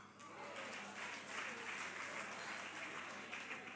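Steady applause from an audience at a budget policy statement, heard at a distance and fairly quiet, holding even for the whole few seconds.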